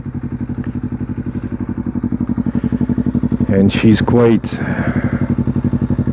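A Honda CBR 250 RR twin-cylinder motorcycle engine with a non-standard exhaust starts and idles with a steady low throb, then revs in a few loud bursts near the end while a person speaks briefly over it.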